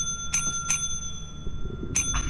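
Bright metallic bell rings from items being sold in the video game Lethal Company, three or four sharp dings with ringing tones, two close together, then a pause before another, over a low background hum.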